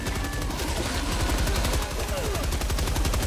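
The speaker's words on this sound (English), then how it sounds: "I'm shooting!" Rapid automatic gunfire in a video game, a dense, loud, continuous burst of evenly spaced shots lasting the whole stretch, with a faint voice underneath.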